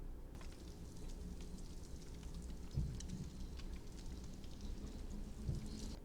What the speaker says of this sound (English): I wasn't expecting rain for some reason.